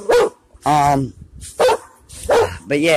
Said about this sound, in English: What are y'all barking at?